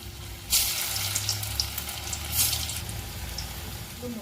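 Soybean and mung dal fritters sizzle in hot oil with a steady crackling hiss, punctuated by a couple of sharper splashes as more pieces drop in; nobody talks.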